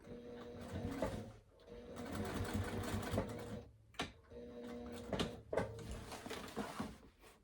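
A sewing machine stitches in quiet, uneven runs, its soft mechanical whir rising and falling with brief pauses and a few light clicks between bursts.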